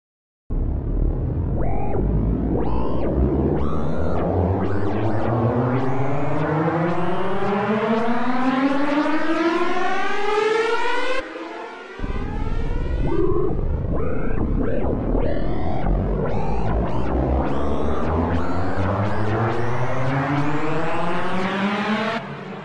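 A thick, buzzing synthesizer drone, its mod wheel being moved, sweeps steadily up and down in pitch, its tone warbling and shifting throughout, loud and continuous with a brief break midway.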